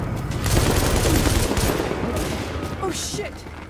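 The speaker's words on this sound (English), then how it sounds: "Shots fired!" Rapid fusillade of gunfire from The Division video game, loud and dense bursts of automatic shots layered together, tapering off toward the end.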